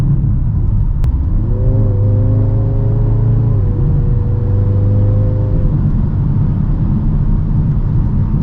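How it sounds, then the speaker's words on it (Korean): A Mini Countryman JCW engine revs up and accelerates hard at full throttle in Green mode, a steady rising drone under a constant loud rumble with audible exhaust, with no talking. "그린에서 풀악셀 한번 쫙 밟아보죠"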